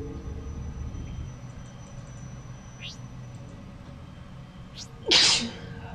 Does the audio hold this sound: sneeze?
yes